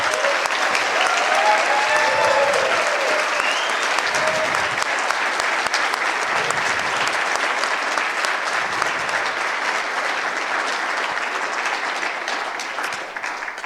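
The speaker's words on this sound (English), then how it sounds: "give a big round of applause to the speakers" Conference audience applauding the speakers at closing remarks, a loud continuous wash of many hands clapping that tapers slightly toward the end.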